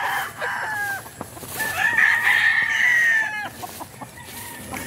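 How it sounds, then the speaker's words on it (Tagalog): Young roosters (stags) crow loudly and close by in a grassy yard, one long crow stretching over a couple of seconds among scattered clucks and shorter calls, with no talking. "Yan mga stag namin to guys, mga stag."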